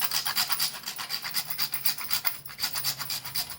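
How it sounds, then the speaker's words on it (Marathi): Nutmeg grated by hand over a pot of wheat kheer, a soft rhythmic rasping repeated in quick close strokes, fairly quiet and without talk. "थोडं जायफळ किसून टाकते"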